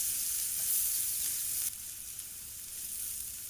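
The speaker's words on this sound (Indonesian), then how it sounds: "Goreng dengan sedikit minyak sampai garing dan warnanya berubah kecoklatan." Medan anchovies fry in a little oil with a steady bright sizzle, close and continuous, easing slightly partway through as they are stirred.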